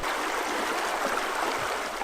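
A river stream flows through a small plot of native woodland. The broad, even watery rush is steady and fairly close, with no voices.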